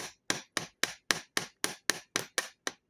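A tiny hammer taps rapidly on a Mul-T-Lock Jr. lock, giving about ten sharp, evenly spaced metallic knocks at a steady rhythm, close and crisp, with no voices.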